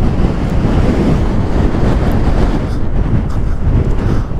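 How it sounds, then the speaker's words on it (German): Strong, steady wind in Iceland roaring and buffeting close against the microphone as a continuous loud rumble with no voices. "Es ist so windig."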